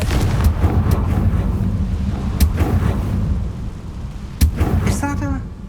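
A Confringo fire spell is cast in Hogwarts Legacy, with sharp explosive bursts and booms standing out over a rumbling battle backdrop, while some talk runs under it and a short tonal flourish closes it.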